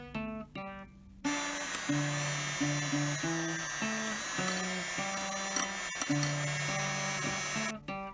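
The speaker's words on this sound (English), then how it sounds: "You can use a stand mixer to mix this or a hand mixer." An electric stand or hand mixer creams room-temperature butter for sugar cookies, giving a steady motor whine that runs almost the whole clip beneath a melodic music track, with quieter moments at the start and end.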